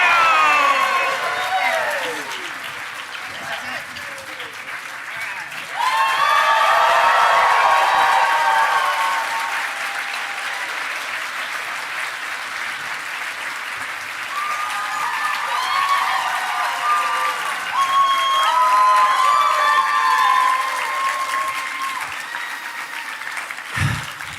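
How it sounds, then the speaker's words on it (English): A crowd cheers and applauds in waves, with bursts of clapping and whoops that rise, settle into steady applause, then swell again, mixed with voices throughout. "And the crowd goes wild."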